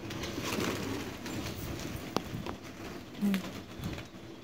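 Pigeons cooing while being fed, soft low coos close by alongside scattered pecking and patter, with faint background noise and a sharp tap midway.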